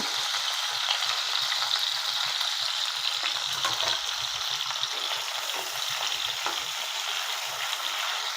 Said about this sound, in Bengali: এগুলো আমি হালকা একটু ভেজে নেব।